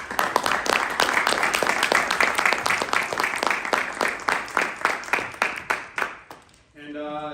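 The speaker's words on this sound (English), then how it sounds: "Please give a round of applause to our two speakers." Audience applause for two panel speakers at a law and immigration discussion, a steady dense wash of clapping that fades out after about six seconds before a voice begins talking.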